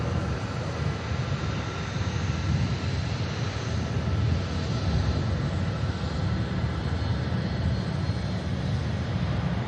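A Virgin Atlantic Airbus A350 airliner taxiing at Manchester Airport, a steady broad engine roar and whine holding constant throughout, heard from a distance without talk.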